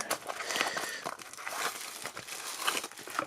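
A cardboard box for a small Hello Carbot toy car is opened by hand, giving close, soft crinkling and light tearing rustles in irregular bursts with no talking.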